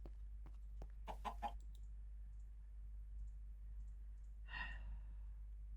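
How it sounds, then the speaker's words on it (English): Chickens in the video game Minecraft, a few soft clucks and a faint squawk heard quietly after a quick burst of clicks. "that is Mr. and Mrs. Chicken downstairs that you hear"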